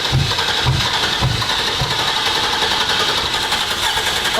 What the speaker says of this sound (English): Guys, I think it's officially the first time the spool bus is ready to start.